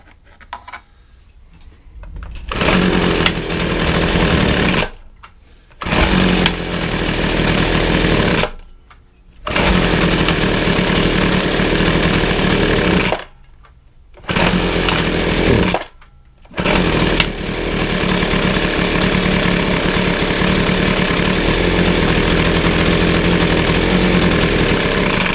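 A small two-stroke engine on a McCulloch hedge trimmer runs loud and close, revving in long bursts broken by several sudden cutouts to near silence, then roars steadily through the last ten seconds.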